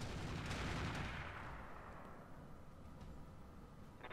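Heavy weapons fire, likely autocannon and missile rack salvos, pounds a battlemech in Roguetech, a dense loud barrage of blasts and rumble that thins out as it goes.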